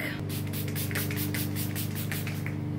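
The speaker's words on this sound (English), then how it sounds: "I'm just gonna use my Glow Mist, spray my face real quick." A facial mist bottle sprays in a long series of quick, close pumps, each a soft airy hiss, over a steady low hum.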